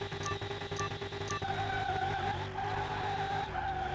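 A Koenigsegg in Car Mechanic Simulator skids under the handbrake, with a loud, steady tire squeal riding over a roaring engine for about four seconds.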